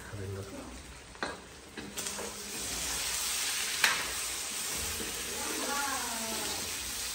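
Chicken frying in a pan with a continuous sizzle, interrupted by occasional stirring scrapes and knocks. Speech comes in briefly over the cooking noise.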